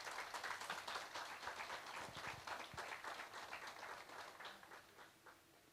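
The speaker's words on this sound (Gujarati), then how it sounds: "તમારી જોરદાર તાળીઓ આ કપલ માટે થઈ જાય" An audience applauds a couple at their 50th wedding anniversary celebration, with steady, dense clapping from many hands that fades slightly toward the end, heard at a moderate distance.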